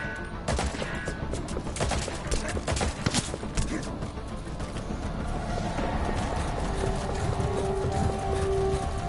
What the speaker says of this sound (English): I don't know why they're just using the pistols.